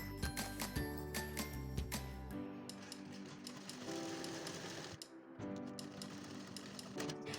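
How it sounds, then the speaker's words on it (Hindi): A sewing machine stitches an Afghani salwar with rapid rhythmic clattering, loud and close at first, then continuing as a steady mechanical run with a brief pause, no talking. "उसके बाद हमें सिलते ही जाना है जैसे सलवार सिलते हैं।"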